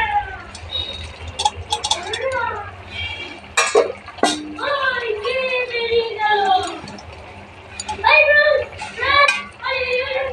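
Okra and boiled potato chorchori is stirred in a pan, giving scattered light clinks and scrapes that sit mostly beneath steady talking.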